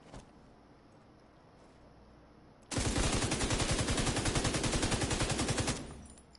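Armor Shredder light machine gun in The Division 2 firing a sustained automatic burst at a shooting range, rapid evenly spaced loud shots kicking in after a quiet stretch and running about three seconds before cutting off.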